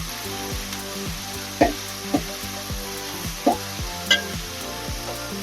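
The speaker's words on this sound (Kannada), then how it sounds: "4 ಮೀಡಿಯಂ ಸೈಜ್ ಈರುಳ್ಳಿ ಕಟ್ ಮಾಡ್ಕೊಂಡಿದ್ದೀನಿ. ಇವಾಗ ಇದನ್ನ ಫ್ರೈ ಮಾಡ್ಕೊಳ್ಳೋಣ." Four medium chopped onions fry in a pan for a beef gravy masala, a continuous close sizzle broken by a few louder stirring scrapes at irregular intervals, no talk.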